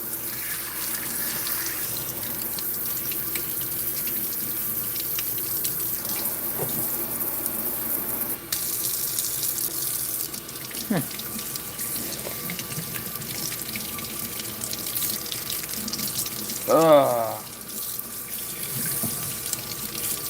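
Hot water runs steadily from a kitchen faucet into a sink for washing dishes, a constant hiss and splash heard up close. Brief clinks of dishes and a short squeak break in now and then.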